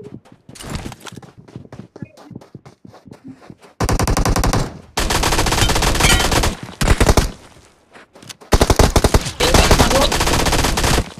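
Bursts of automatic gunfire in the battle royale game BGMI on the Karakin map, scattered single shots at first, then long loud sustained volleys with brief gaps between them.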